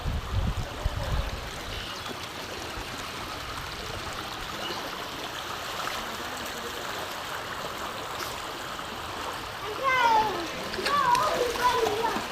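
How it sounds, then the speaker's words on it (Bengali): Seawater floods the Raozan school field, rushing in fast with a constant splashing, gushing roar. Voices, including what sound like children's, talk over the water, and there are brief louder splashes near the end. "অনেক স্পিডে পানি আসছে"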